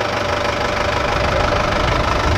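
A Mahindra 585 DI XP Plus tractor's diesel engine idles nearby, a loud, steady knocking rumble with a constant mechanical drone throughout.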